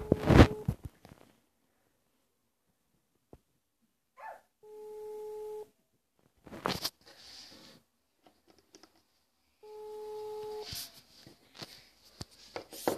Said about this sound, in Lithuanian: skambina, jungiu garsiakalbį.